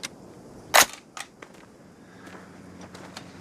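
A single sharp gunshot cracks out during clay shooting in a video game, followed by a couple of fainter clicks and small impacts against a quiet background.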